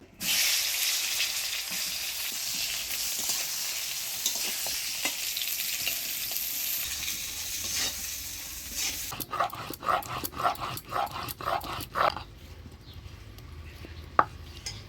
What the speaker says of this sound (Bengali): এবার এই তেলের মধ্যেই হলুদ লবণ দিয়ে ঝোলের বেগুনটা ভাজি নেব।